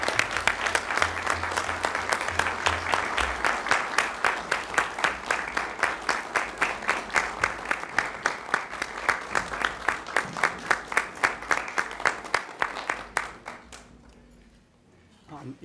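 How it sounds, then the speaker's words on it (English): Audience at a county commissioners workshop giving a round of applause, a long stretch of steady rhythmic clapping, fairly close and sustained, that thins out and fades near the end. "that deserves a round of applause"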